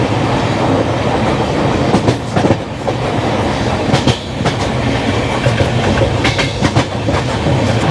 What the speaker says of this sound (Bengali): ট্রেনে ওঠার কিছুক্ষণ পরেই আমাদের ট্রেনের চাকা গড়াতে শুরু করলো হাওড়ার উদ্দেশ্যে।